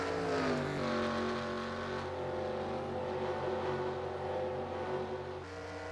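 Stock cars racing in the video game NASCAR Racing 2003 at Willow Springs, a sustained, steady engine drone with layered revving tones from several cars running together, loud and continuous.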